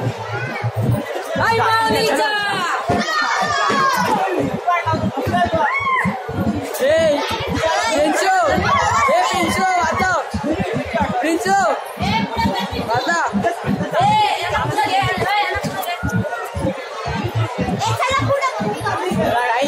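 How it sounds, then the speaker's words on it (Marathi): Dense crowd at Ekvira temple moving toward darshan, a constant loud babble of many voices, including children, with chatter and occasional calls close around, continuing throughout without pause. "गर्दी पुढे बघू शकता तुम्ही"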